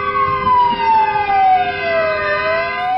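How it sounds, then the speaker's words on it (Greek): A fire engine siren wails loudly and continuously from close by in a jammed street. Its tone sweeps slowly downward over a low traffic rumble. "Πυροσβεστικό όχημα,"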